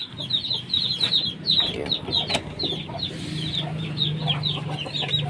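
Pet chickens in a barracks yard clucking and chattering continuously while waiting for feed, a dense flock of overlapping calls with a low steady hum beneath.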